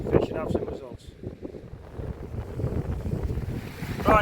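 Gusty wind buffets the microphone outdoors by open water while fishing at Aberthaw, a steady rumbling roar with a person talking over it.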